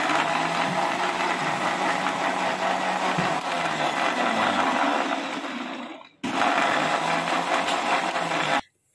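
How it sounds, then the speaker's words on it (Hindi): An electric mixer grinder churns tamarind chutney with a loud, steady, rough whir. It cuts out briefly near the end, starts again, then stops abruptly. "अब हम इसको ग्राइंड करेंगे।"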